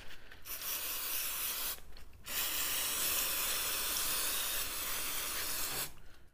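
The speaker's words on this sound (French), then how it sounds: "Je pulvérise un peu de nettoyant pour frein dedans." An aerosol can sprays brake cleaner in long hissing bursts, two short ones and then one sustained blast of several seconds, during a café racer engine rebuild. The hiss is close and loud, with brief pauses between sprays and no talk.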